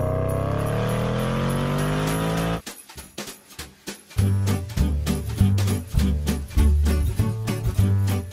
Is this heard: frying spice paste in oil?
no